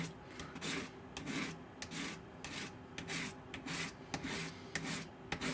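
A kitchen knife is drawn across a fine sharpening stone in quick, evenly spaced scraping strokes, each a short gritty rasp, close and fairly quiet with brief pauses between.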